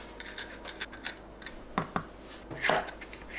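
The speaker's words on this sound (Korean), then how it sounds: "파프리카를 한 입 크기로 썰어주세요." Knife cutting mini bell peppers into bite-size pieces on a board: a quiet series of short, crisp cuts and scrapes at an irregular rhythm, close by.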